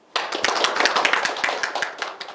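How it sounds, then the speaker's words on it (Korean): A burst of clapping starts abruptly and carries on, a small group applauding at close range to welcome a speaker at an online AI talk, with sharp, uneven claps that thin out toward the end. "그러면 온라인이지만 박수로 모시겠습니다."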